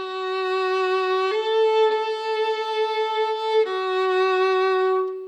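A violin played with long, full bow strokes gives a few sustained notes with rich, steady overtones, rather loud and close, with no talking.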